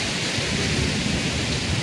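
Torrential rain with thunder in a Konkan village during May, a loud, unbroken wash of downpour over a low rolling rumble, with no voices.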